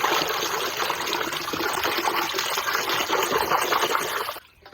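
Water runs steadily into a basin as fish is washed, a loud, close, continuous gushing splash that stops abruptly just before the end.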